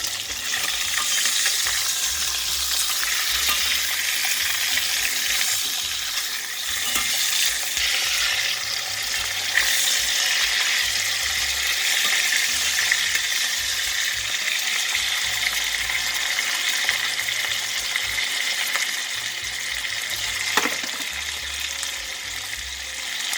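Salmon pieces sizzle steadily in a pan for a mustard fish curry, a continuous close frying hiss just after the fish is turned, with faint clinks and stirring, no voices.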